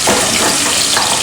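Vegetables sautéing in ghee in a pan for an Egyptian bamya dish, a loud, close, steady hissing sizzle with no talk.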